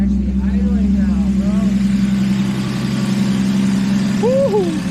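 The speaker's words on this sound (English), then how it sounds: "It's actually idling now" An Audi S4 idles steadily after a misfire repair, with a low, even engine hum held throughout while people talk and whoop over it close by.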